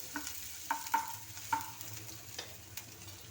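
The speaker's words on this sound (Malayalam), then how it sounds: "ഇഞ്ചിയും വെളുത്തുള്ളിയും കൂടെ അങ്ങ് ഇട്ട് കൊടുക്കുകയാണ് ഞാൻ അത് രണ്ടും കൂടെ ഒന്ന് മൂത്ത് വരണം" Ginger and garlic fry in a pan and are stirred, giving a quiet, steady sizzle broken by a few soft scraping knocks from the spoon.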